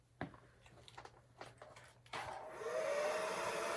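A hair dryer fitted with a diffuser switches on for curly hair after a few soft handling taps, starting with a steady close whoosh that grows louder and fuller as the airflow is turned up.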